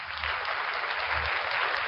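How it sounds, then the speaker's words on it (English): A short burst of audience applause for a performer at a live show, dense clapping that stays even and full for the whole stretch. "Round of applause for the great, wonderful, fantastic Van Valiant."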